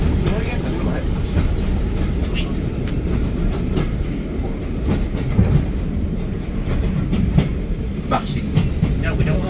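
A diesel-hauled heritage train runs on the East Lancashire Railway, heard from inside as a steady rumbling roar with wheel clatter and faint squeals throughout, with occasional voices in the background.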